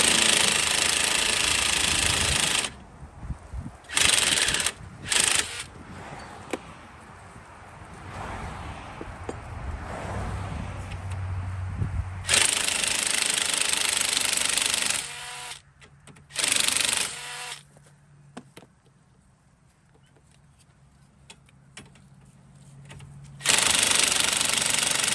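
An impact wrench works on the bolts of a 2010 BMW 535i front wheel bearing, giving loud rattling hammering bursts of several seconds each, separated by quieter stretches of shop noise and handling, close up.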